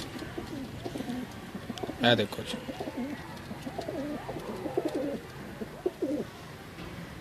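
Pigeons coo repeatedly at close range in a domestic pigeon-keeping setting, with a sharp flap or knock early on and someone speaking briefly amid the calls.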